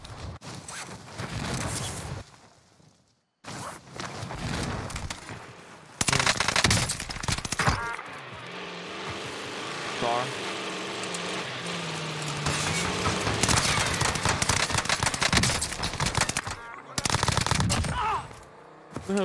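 Gunfire in the video game Warzone comes as loud automatic bursts from an Automaton rifle, broken by short silent gaps and a quieter middle stretch where players talk under the shooting.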